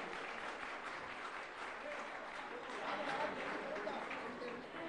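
An audience at a religious gathering bursts into sustained applause, a dense, even wash of clapping from many hands that holds steady for several seconds at a modest distance.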